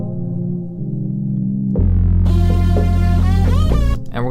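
An unfiltered trap 808 bass in a hard beat: deep booming low notes that shift pitch, then a bright, buzzy synth layer with gliding tones that cuts off near the end, loud and with no voices.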